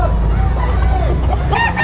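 A rooster crows clearly at a chicken market in Padre Garcia, Batangas, a rising and falling call over the murmur of the crowd, followed by another bird's call near the end.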